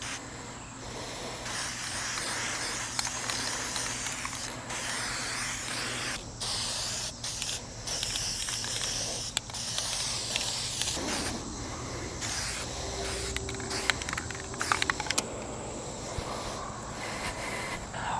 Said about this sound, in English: we're going to go over and put the second coat of paint on